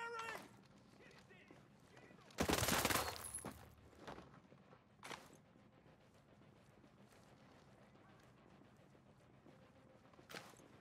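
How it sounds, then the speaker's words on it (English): A burst of rapid automatic gunfire from the shooter game Ghost Recon Breakpoint, a dense loud volley of about a second and a half, followed by a few single sharp shots, with speech and game ambience in between. "keep firing!"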